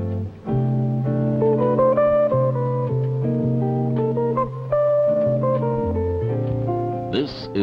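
Jazz guitar from a guitarist's first album, a 1968 recording, plays a steady run of chords and melodic single notes at close range, full and continuous, with no one speaking.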